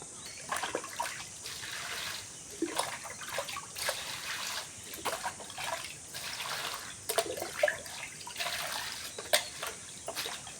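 Water sloshes and trickles softly and steadily as fresh leafy greens soak in it to loosen soil, with small splashes and swishes as they are moved around, no voices.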